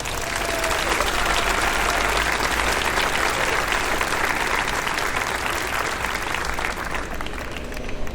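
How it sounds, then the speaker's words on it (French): Enthusiastic applause from a church parish audience for the young people putting on a show, dense and steady clapping for several seconds, loud and close. "On peut déjà les applaudir."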